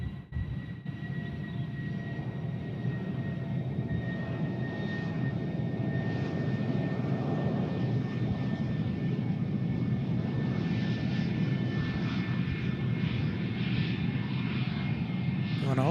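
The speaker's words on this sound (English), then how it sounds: "that's not a fish, that's an F-16." An F-16 fighter jet moving at Tucson International Airport, a steady, distant engine roar that holds for the whole stretch with a few faint tonal whines on top and a quiet voice now and then.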